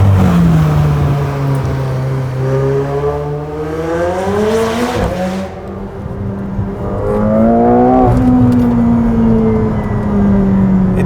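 A McLaren 720S Spider with its 700-plus horsepower engine accelerates hard, the loud close roar climbing through the revs in rising sweeps. A brief drop between gears is followed by a second surge of acceleration.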